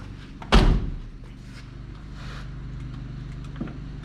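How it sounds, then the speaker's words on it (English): The door of a 1990 Cadillac Allante being shut, a single loud close slam with a heavy thud, followed by a quiet interior hum and a faint click later. "let me shut the door here."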